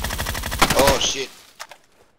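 Rapid automatic gunfire in PUBG rattles off in a quick burst, then cuts out, followed by a lone faint shot and quiet tail; a voice briefly sounds over the shooting.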